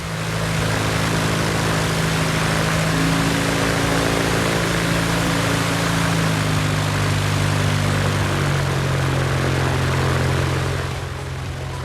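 Light aircraft engine, supplied by Aerosport, running steadily at a loud, close, droning pitch through its first start-up, holding an even tone before easing slightly near the end, with no talk.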